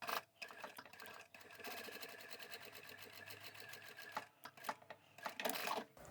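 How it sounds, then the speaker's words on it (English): Sewing machine stitching diagonal lines on quilt binding, a faint but continuous rapid whirr with a few brief pauses near the end. "Let's go to the machine and we can sew up those diagonal lines"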